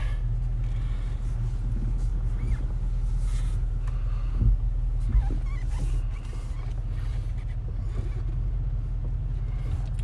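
A Range Rover creeps downhill in first gear with hill descent control engaged, giving a steady, close low rumble from the drivetrain with faint creaks and small knocks over the top, and no voices.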